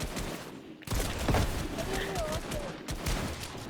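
Gunfire in a Fortnite match, bursts of rapid shots from the game mixed with children talking and excited voices.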